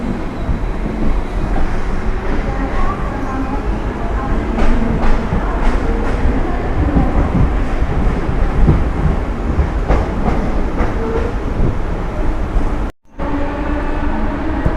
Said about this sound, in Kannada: ಪನ್ವೇಲಿಂದ ಟ್ರೈನು ಬರ್ತಾರಾಯಿತು.